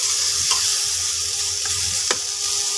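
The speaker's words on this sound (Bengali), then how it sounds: "আলু, উচ্ছে, পটল, গাজর সব একসাথে দিয়ে দিয়েছি। একটু নুন হলুদ দিয়ে ভাজা ভাজা করে ভাজবো" Potato, bitter gourd, pointed gourd and carrot with salt and turmeric fry in a pan, a close, steady hiss and sizzle with a few scraping stirs.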